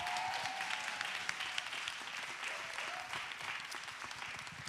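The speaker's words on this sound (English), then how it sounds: "Let's give our panelists a round of applause" A church audience at a women's weekend panel discussion applauds the panelists with steady, dense clapping throughout, the broad wash of many hands holding at an even level with a few sharper claps standing out.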